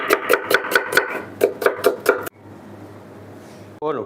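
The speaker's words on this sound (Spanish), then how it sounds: "cortamos lo que es la cebolla en juliana" A knife chops onion into julienne strips on a board for a sofrito, about ten quick, sharp, evenly spaced strokes close by, then a pause and low room hiss.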